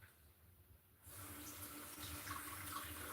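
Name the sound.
potatoes being rinsed under running tap water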